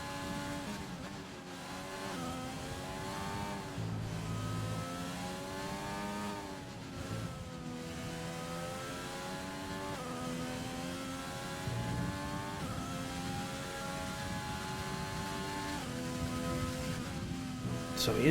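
A McLaren race car in a racing video game drives the Suzuka circuit in Japan. Its engine whines steadily, rising and falling in pitch through gear changes and corners.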